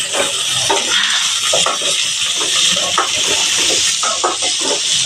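Onions with curry leaves and garlic frying in a hot pan, giving a loud, steady, hissing sizzle with small crackles throughout, close and without talking.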